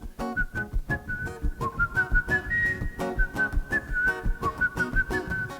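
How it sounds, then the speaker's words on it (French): A person whistles the chorus of a song, a clear melodic line of short rhythmic notes close to the microphone, with no talk over it. "Puis, je siffle dans cette chanson."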